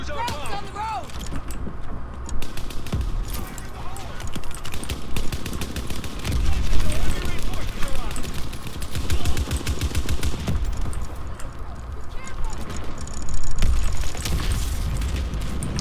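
Gunfire in the multiplayer video game Call of Duty WWII, dense rapid automatic bursts with scattered booms and explosions, loud and continuous, mixed with game effects and occasional talk.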